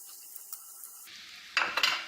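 Lemon juice is stirred through soaked poha with sugar and green coriander in a metal pan, starting with a faint faraway scrape, then a loud close run of spoon scrapes and clanks against the pan at the end, with no talk.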